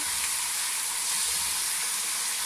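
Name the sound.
frying onions with ginger garlic paste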